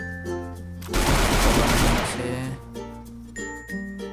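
Burst of rapid automatic gunfire in the Free Fire battle royale game, loud and dense for about a second amid in-game sounds, with tonal game effects and chimes before and after.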